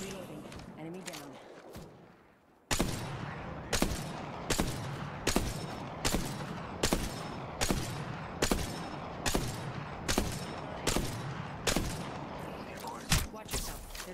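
Apex Legends gunfire rings out in regular heavy bursts, roughly one per second after a quieter opening, loud and punchy, while a voice speaks under it.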